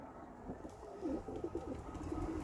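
Many pet pigeons or doves cooing together in a loft, a steady overlapping chorus of soft throaty coos close by with no talking.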